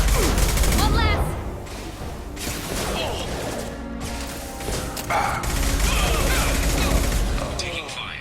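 Gunfire in Mass Effect 2 combat, a dense continuous barrage of shots and blasts running throughout, with game voices calling out over the loud firefight.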